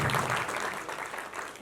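Crowd applause at a film award function, a short burst of clapping that starts full and gradually thins out and softens over under two seconds.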